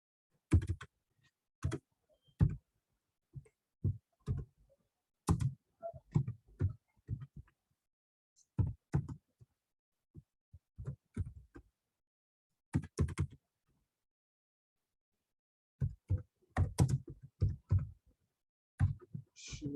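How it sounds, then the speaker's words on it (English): Computer keyboard typing at a desk, heard close and clear as quick bursts of key clicks in uneven clusters separated by short pauses, with no talking. "I'm sure you can see what I'm typing."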